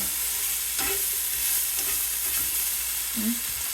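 Sun-dried pork with garlic and black pepper frying in a pan, giving a steady close sizzle throughout with a few soft clinks of stirring.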